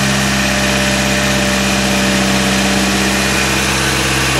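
Toyota 1NZ-FE 1.5-litre four-cylinder idling high after a throttle body upgrade, a loud, steady, even hum with constant vibration and no change in pitch, close up and without voices.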